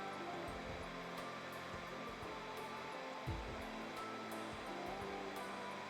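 Cashew nuts fry in hot oil in a pan for a Kerala-style prawn dum biryani, giving a soft, steady sizzling hiss with faint scattered crackles.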